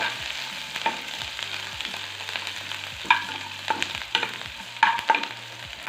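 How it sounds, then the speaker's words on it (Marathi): Coarsely crushed garlic and green chillies frying in a hot pan, a steady close sizzle broken by repeated scraping stirs, with several sharper clatters of the spoon against the pan. "लसूण हे ओबड-धोबड कुटून घेतले आहे आणि हिरव्या मिरच्या आणि हे थोड्या वेळ आपण आता परतून घेऊयात।"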